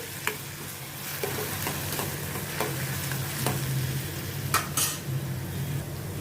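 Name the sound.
chopped onions sautéing in a pan until pink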